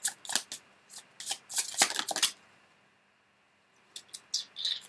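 Tarot cards are shuffled in quick riffling bursts, then a pause, followed by softer flicks as cards are drawn, close and crisp with no speech.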